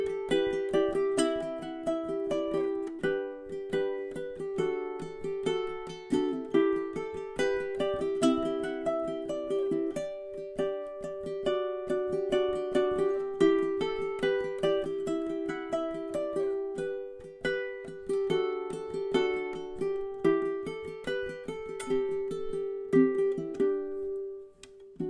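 Fingerstyle ukulele with the thumb bouncing a steady low accompaniment while the index finger picks a melody on top, played close and clear for about twenty-five seconds.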